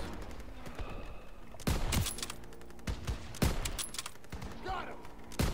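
Gunfire in the Call of Duty: WW2 campaign, with repeated loud bursts of rifle and machine-gun shots at irregular intervals and some faint background voices.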